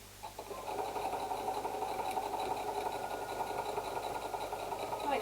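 A sewing machine runs continuously for a few seconds, putting stitches into a journal pen holder with a steady, even mechanical whir at moderate volume and no talking.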